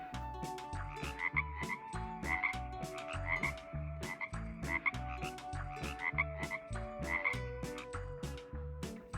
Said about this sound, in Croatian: Žaba.